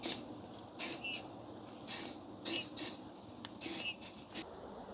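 Short hissing bursts of spray lubricant hit the wheel bolts of a single-axle trailer during a tire change, about nine quick sprays in an irregular rhythm, close and clear with no talking.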